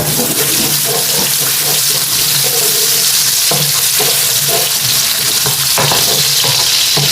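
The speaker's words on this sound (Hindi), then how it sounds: "और प्याज डाल के हमने इसको तकरीबन ब्राउन करना है" Onions frying in oil in a pan for a potato and spinach curry, a dense steady sizzle with occasional stirring scrapes, close and continuous with no talking.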